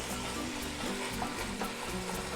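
Ground meat fries in a pan for a Mexican lasagna, a dense, continuous sizzle and crackle heard up close with faint stirring scrapes and no talking.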